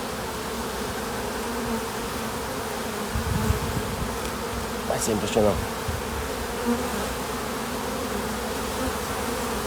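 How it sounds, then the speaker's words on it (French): Dense, steady droning buzz of many honeybees pouring from an opened beehive in February, continuous throughout with a voice speaking briefly over it partway through. "Regardez, ça dégueule d'abeille,"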